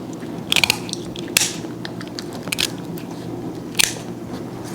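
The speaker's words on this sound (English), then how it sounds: "Cut the rest of it with the scissors." Kitchen scissors snip through a lobster's shell in a few sharp, crunchy cracks spaced irregularly over several seconds, close and fairly loud against a quiet background.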